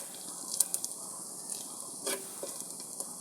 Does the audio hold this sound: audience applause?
no